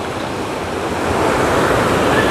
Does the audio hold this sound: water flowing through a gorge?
yes